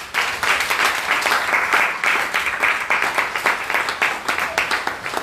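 A church congregation claps and applauds vigorously at an evening prayer service, a dense, rhythmic wave of hands close by, with faint voices mixed in.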